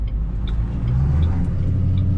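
A 2007 Shelby GT with a 4.6 liter three-valve V8 and 147,000 miles rumbles steadily while driving, a deep continuous low engine drone from inside the cabin with no talking.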